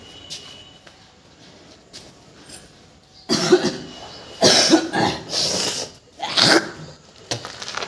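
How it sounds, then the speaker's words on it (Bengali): A person with a lingering cold coughs in several harsh, close bursts, separated by short pauses, against a quiet background. "এখনও হালকা হালকা কাশি সর্দি আছে পুরোপুরি কিওর হয়নি"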